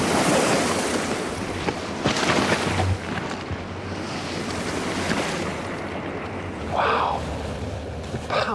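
Chunks of glacier ice crashing and breaking away at a Greenland ice face, a continuous rushing, surf-like roar mixed with wind that swells in places, loud and steady with no voices.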